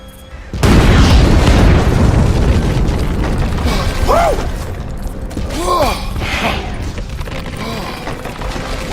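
TNT blast destroying a bridge in Red Dead Redemption 2: a loud, sustained explosive boom with rumbling debris and creaking, clattering wreckage. Brief cries and voices rise over the roar.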